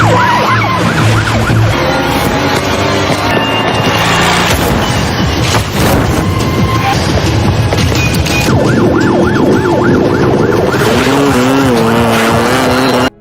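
Loud wailing sirens rise and fall over a rumbling engine, several overlapping tones sweeping continuously throughout.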